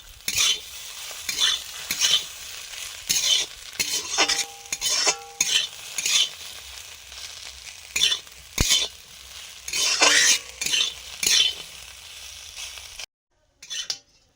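Taro pieces fry in a little oil in an iron wok while a spatula stirs and scrapes them, giving a steady sizzle broken by repeated loud metallic scraping strokes and clinks.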